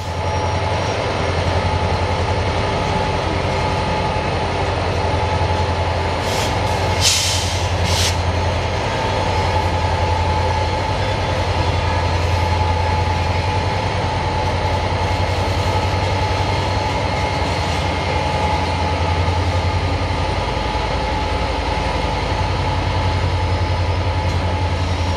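A piggyback freight train is shoved over a hill by helper locomotives, a loud, continuous low diesel rumble and rolling rail noise held steady throughout, with a brief hiss partway through and no talk.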